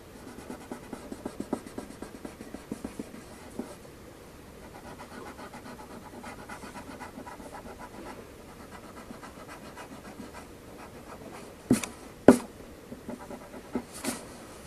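Pencil shading on paper while drawing a mouth, a soft steady scratchy rasp of graphite strokes, close and quiet, joined near the end by a few sharper louder scrapes.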